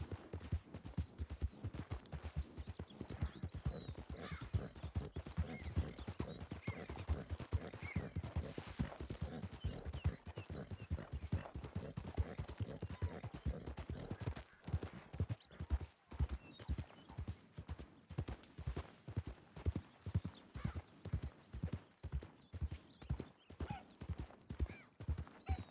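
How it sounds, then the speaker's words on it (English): Wild horses in the RedM WildRP game gallop past with steady, loud hoofbeat clip-clops, joined by a whinny early on and continuing in a rapid drumming rhythm throughout. "They're wild horses."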